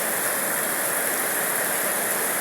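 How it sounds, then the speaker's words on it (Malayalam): Heavy monsoon rain pours down steadily in a dense, continuous hiss with no pauses, close and loud throughout, with no voices over it. "നല്ല ഇരുണ്ട് കൂടിയ മഴയാണ്"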